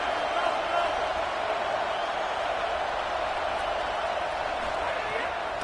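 A packed stadium crowd at a UCLA college football game roars steadily on a big third down in the final quarter. The broad, sustained roar stays even throughout, with no clear voices on top.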